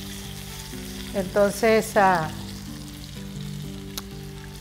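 Milanesa for tortas frying in a pan, a steady sizzle running beneath background music while a person briefly says a word midway.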